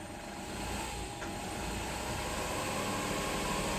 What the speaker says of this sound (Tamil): அப்படியே வந்து அந்த ஆர்பிஎத்தை கொஞ்சம் ஆக்சிலேட்டர் மிதிச்சு கொஞ்சம் மெயின்டைன் பண்ண முடியுதா பாருங்கள்.